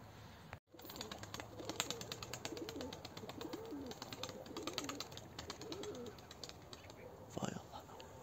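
Pigeons coo softly and repeatedly, their low, rolling calls continuing throughout against a busy background of chirps and rustling, with a brief dropout near the start.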